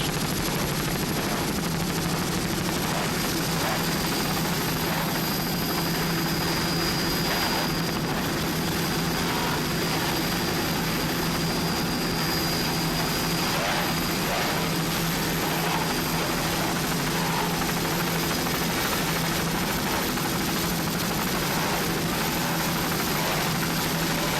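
Racing powerboat powered by two 2.4 EFI outboard engines, a steady loud continuous drone with a high whine held throughout, distant and unbroken over the full stretch with no voices.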